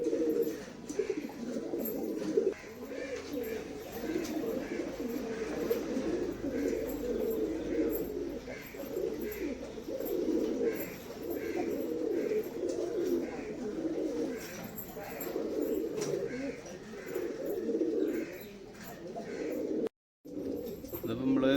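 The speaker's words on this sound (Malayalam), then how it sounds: "കുഴഞ്ഞ പ്രാവട്ടം കൂടെ കിട്ടിട്ട് കാല് കുഴഞ്ഞ പ്രാവാണ്" A lame-legged pigeon coos softly and repeatedly in low, rolling phrases, with a steady murmur of faint background noise and brief pauses between calls.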